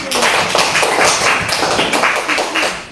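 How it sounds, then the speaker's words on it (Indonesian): A group clapping hands in applause in a classroom, dense rapid claps from many people, loud and close, continuing steadily throughout. "Oke, tepuk tangan dulu."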